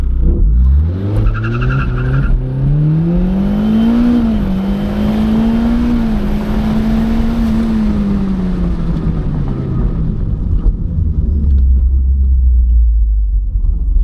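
A car fitted with an electric turbo makes a foot-brake launch in second gear, its engine roaring loud and close as the pitch sweeps up, holds, then fades with a deep rumble and some tire noise.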